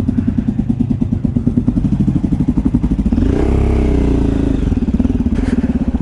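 A KTM motorcycle ridden along a road, its engine droning steadily up close with a rough, pulsing note that swells as the revs rise partway through, with no one talking.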